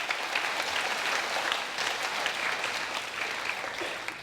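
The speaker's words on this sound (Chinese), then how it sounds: "请起立，互咱大家拍掌欢迎。" Church congregation at a Taiwanese Presbyterian Christmas service applauding to welcome guests, a full, sustained round of clapping from many people indoors, steady and fairly loud from start to finish.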